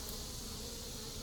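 Honeybees drone steadily at a struggling beehive, a dense, even, faint buzz running throughout with no voices over it.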